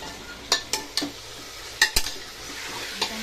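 Chicken stir-fried over a high flame for a village-style green chilli chicken curry: a low sizzle runs throughout, with several sharp clinks of a spoon against the pan and no voices.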